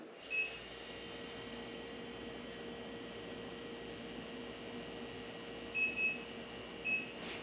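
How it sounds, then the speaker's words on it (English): A kitchen timer is set for meatloaf, giving a short beep early on and then a few more beeps near the end, faint over a steady background hum. "Set my timer."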